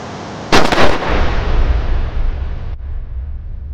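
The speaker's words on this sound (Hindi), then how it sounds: "आज मुझे गोली चलाने पर मजबूर मत कर पाठक।" A single loud gunshot cracks sharply, then booms and rumbles for a couple of seconds before cutting off abruptly.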